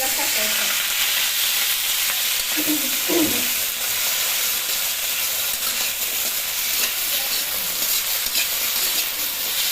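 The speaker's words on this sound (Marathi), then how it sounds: "या सगळ्या वापरून जराशी तेलामध्ये फ्राय" A mix of vegetables fries in a little oil in a large kadhai over a gas flame. A loud, dense sizzle runs unbroken through the whole stretch, close up, with no voices.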